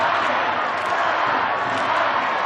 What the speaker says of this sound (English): the German crowd here in Leipzig count them through